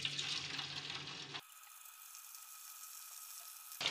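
Marinated chicken pieces dropped into hot oil, giving a steady broadband frying sizzle, loud at first and then a thinner, continuous hiss that runs on alone with no voices.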